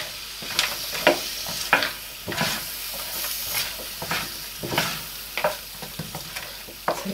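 Frozen vegetables stirred in a hot pan for a vegetarian curry, a hissing sizzle punctuated by a series of sharp, irregular scraping and clattering strokes, close up.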